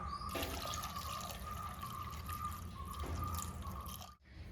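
Water pours steadily into a pot of Kerala-style green gram and mango curry with green chillies, a continuous close splashing trickle that runs for about four seconds before cutting off abruptly.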